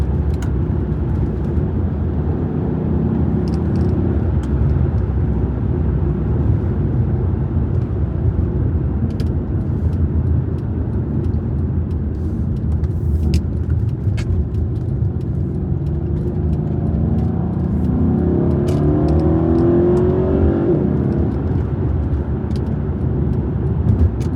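A 2012 Mercedes E63 AMG wagon's engine drones steadily from inside the cabin, loud and constant, with a rising rev sweep near the end as gears are shifted manually.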